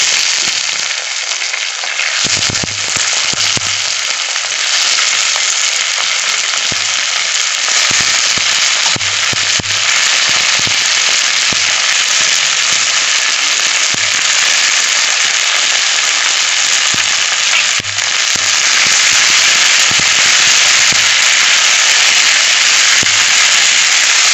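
Dried red chilli and crushed ivy gourd sizzle loudly and steadily in a hot pan as an ivy gourd stir-fry is cooked, with continuous crackling spitting throughout.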